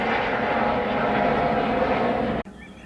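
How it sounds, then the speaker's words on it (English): Continuous heavy roar of a helicopter overhead, loud and steady, then cutting off abruptly near the end to near quiet. "that helicopter noise has gone away a little bit."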